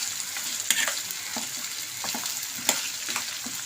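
Drumstick pieces frying in a pan as they are stirred, a steady sizzle broken by several soft scrapes and a couple of sharper knocks of the spoon, moderately loud and close.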